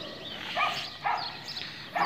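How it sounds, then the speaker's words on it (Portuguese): A dog barks three times at a steady pace, somewhat distant and moderate in volume, over quiet background noise. "Tá escutando o cachorro latindo."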